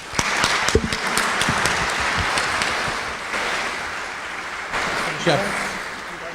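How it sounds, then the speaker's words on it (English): An audience applauds a research conference panel, a broad wash of clapping with a few sharp claps up front, gradually thinning as a voice speaks over it. "Let's give our panel a round of applause."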